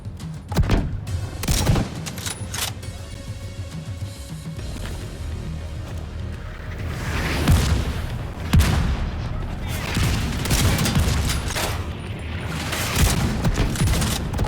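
Repeated booming mortar fire in The Division video game, a dense barrage of loud blasts and rumbling impacts rolling through the whole stretch, with game voices shouting over the battle.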